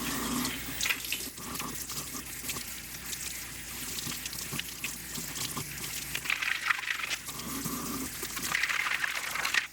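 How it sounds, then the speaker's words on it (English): Running tap water splashes steadily into a sink while soapy Atari 800XL key switches are rinsed beneath it, a continuous close hiss and trickle with small shifts in the flow. "I do have to rinse this because, of course, it's full of soapy water now"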